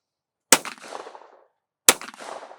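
Two sharp, loud shotgun blasts roughly a second and a half apart, each with a long rolling echo, fired outdoors during a collegiate team shoot-off competition.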